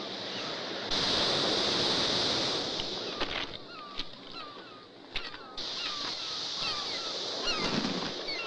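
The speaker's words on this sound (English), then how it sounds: "These are eider ducks, a couple of families grouping together after leaving the nesting grounds." Eider ducks, a couple of families grouped together after leaving their nesting grounds, give scattered soft calls over the steady wash of ocean waves and surf, the birds faint against the water.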